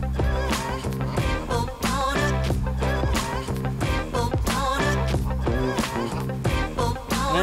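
A flock of geese honks and gabbles loudly and continuously up close near a fisherman at the water, with dense overlapping calls and a voice briefly underneath.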